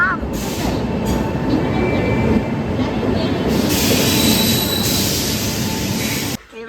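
Passenger train in Mumbai headed toward Dadar, with a continuous rumble of wheels on track and a rising metallic squeal partway through. Voices murmur faintly beneath it, and the noise drops off abruptly at the end.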